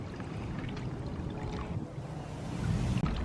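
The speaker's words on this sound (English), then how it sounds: "it's very pretty and very relaxing to hear the sound of the running water." Steady, close running water trickles and splashes continuously from a three-tiered solar bird bath fountain, with no voices.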